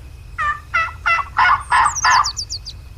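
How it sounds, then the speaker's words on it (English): A wild turkey in a hunting video game gobbles in a rapid run of about six harsh pulses, fairly close and loud over a low background hum, trailing off into a few thin high chirps. "He's in there. Let's see if we can call him in."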